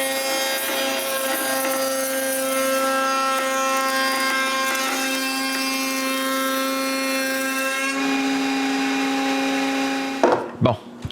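A power tool cuts grooves into wooden cabinet parts, rails and stiles for a ten-drawer rolling workshop cabinet, with a steady, loud whine for about eight seconds that then changes pitch, winds down and ends in a few brief knocks.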